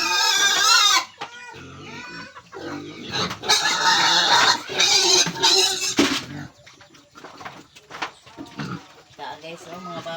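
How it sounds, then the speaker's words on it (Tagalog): Pigs on a family farm squeal and grunt at feeding time, with chickens clucking nearby; the animal noise comes in loud bursts, and a person talks over and between them. "Darang atong mga baboy."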